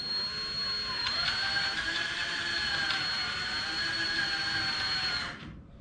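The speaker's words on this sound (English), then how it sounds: "Come back here and drill our little hole for our counter." A power drill whines steadily for about five seconds at a constant high pitch while drilling a hole in a shop cabinet counter, then spins down and stops.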